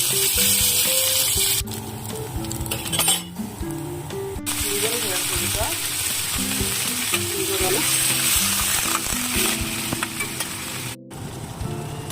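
Pepper liver frying in a pan, a loud, steady sizzle running throughout with occasional stirring clatter and brief pauses.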